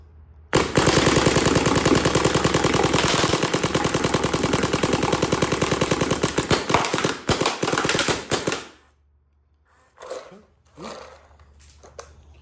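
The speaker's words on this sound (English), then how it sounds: "now we're firing" A G6R black Corrado poppet paintball marker fires a long, rapid, loud string of shots for about eight seconds close by, then stops, followed by a few brief clatters and faint voices.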